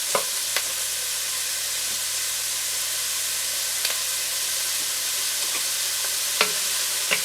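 Onions for a South American locro fry in a pan with a steady, bright sizzling hiss, punctuated by a handful of isolated spoon clicks against the pan, close up and without speech.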